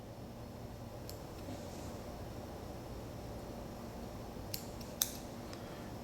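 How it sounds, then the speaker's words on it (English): Scissors make a few faint, sparse snips while cutting a paper sewing pattern for a tank top, set against a steady low hiss in a quiet room. "And then we're going to cut a little off the other side."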